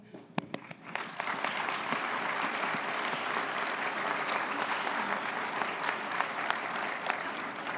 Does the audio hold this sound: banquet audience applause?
yes